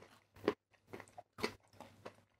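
Close, crisp crunching of kaki no tane, crunchy Japanese rice crackers infused with wasabi, bitten and chewed in about five separate bursts with brief pauses between, no talking.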